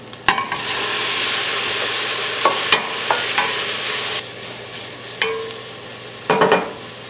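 Beef drops into a pan of onion and ginger and fries with a broad, steady sizzle, broken by a few close clunks and scrapes of a utensil against the pan.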